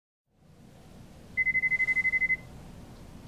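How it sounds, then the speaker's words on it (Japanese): A phone in the video game Lost Judgment rings with a rapid series of about ten pulsed electronic beeps, clear over a low, quiet room ambience. "電話か。"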